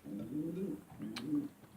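Pigeons coo close by in a loft, two low rolling phrases in steady succession with a brief pause between them.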